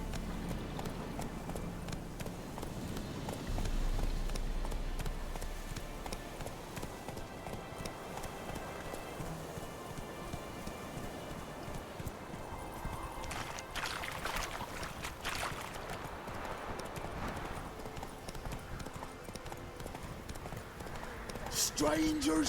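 Galloping horse hooves in The Witcher 3, a fairly steady run of rapid thuds that carries on through much of the stretch, mixed with game sounds and a person talking over it.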